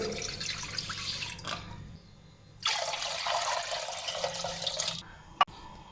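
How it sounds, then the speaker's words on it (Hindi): One litre of milk poured into a pot, with a steady liquid stream that pauses briefly and resumes, then ends with a sharp clunk. "1 लीटर दूध डालेंगे।"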